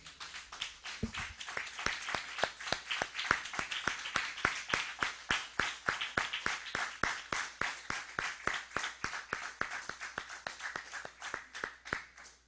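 A church congregation claps together in a steady, rhythmic beat, the sharp handclaps repeating evenly for several seconds with no voices over them.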